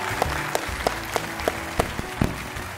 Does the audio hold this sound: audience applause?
yes